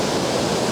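A river of hot thermal water rushes steadily, a dense broadband roar of flowing water heard close and loud with no pauses over a brief moment.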